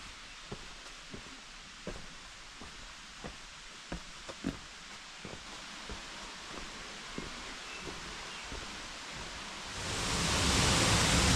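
Steady rushing water of the Kurşunlu Waterfall in a nature park valley near Antalya, a constant broadband roar with scattered faint clicks and knocks, swelling sharply louder near the end.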